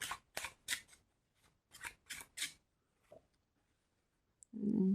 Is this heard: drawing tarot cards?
yes